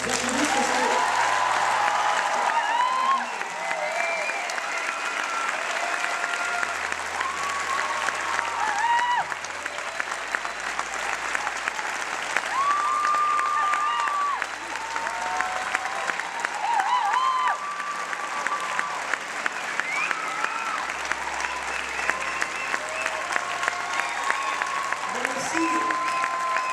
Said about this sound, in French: Je propose quand même qu'on les applaudisse